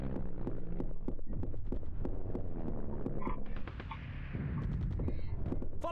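Gunshots in the video game Hidden and Dangerous, a quick run of sharp cracking shots at a moderate level, thinning briefly midway before a few more reports follow.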